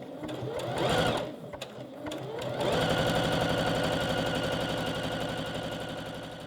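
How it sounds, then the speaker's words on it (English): A domestic sewing machine stitches elastic onto a bra. A few short bursts and pauses lead into a steady, rapid run of close, even needle strokes. "So then I'm going to carry on sewing until I get to the other end."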